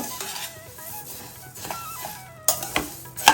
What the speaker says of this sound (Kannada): ಸ್ವಲ್ಪ ಕಲರ್ ಚೇಂಜ್ ಆಗೋ ತನಕ ಫ್ರೈ ಮಾಡ್ಕೋಬೇಕು